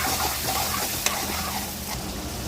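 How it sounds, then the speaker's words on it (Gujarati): Onion, tomato, ginger, garlic and chillies sautéing in hot oil, a steady close sizzle with stirring scrapes and a sharp clink of the spoon partway through. "ડુંગળી, ટામેટાં, આદુ, લસણ, મરચાં તેલમાં નાખીશું અને તેને આ રીતે સાતળીશું"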